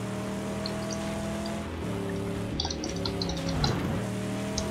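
A car in the Mad Max video game drives with a steady engine drone, shifting pitch as it accelerates, plus a brief scraping swell near the end; close and continuous, no talking.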